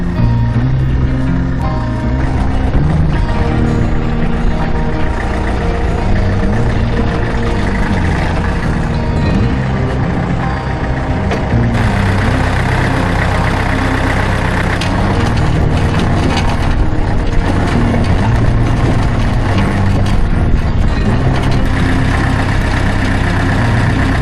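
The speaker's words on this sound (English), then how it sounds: "We took along this McCormick Deering peg drum and International Harvester 634 tractor" An International Harvester 634 tractor engine running at a vintage machinery show alongside a McCormick Deering peg drum, a loud, continuous, close mechanical drone with a rough, clattering texture and no talk over it.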